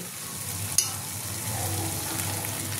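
Water goes into a pan of sizzling stingray fish masala for a kosha curry, one sharp splash-like hit followed by an even, close, hissing sizzle, with nobody speaking.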